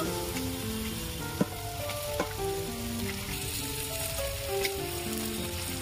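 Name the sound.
chicken meat added to hot oil with fried garlic, sizzling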